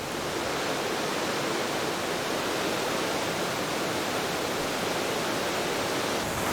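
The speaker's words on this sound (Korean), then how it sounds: "여기 이 자이언트 게이트 폭포 밑에 이 흐름, 이 물줄기가 뉴질랜드에서 제일 추운 곳이랍니다" Giant Gate Falls in New Zealand pours into its stream, producing a loud, unbroken broadband roar of falling water that holds constant throughout, heard close up with no voices.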